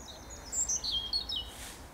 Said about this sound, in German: Alter Rotkehlchen, du bist ganz schön laut.